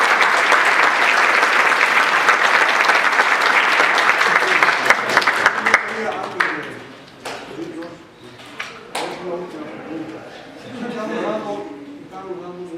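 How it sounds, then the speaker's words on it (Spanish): Audience applause at the close of an engineering lecture for architects, loud and dense for about six seconds, then thinning into scattered claps and voices as the room settles. "Un aplauso."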